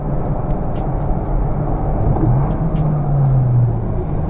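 A car with an automatic sequential gearbox climbing a road, its engine humming steadily and then revving up in third gear toward 4000 rpm, a rising tone held close and loud with no talk.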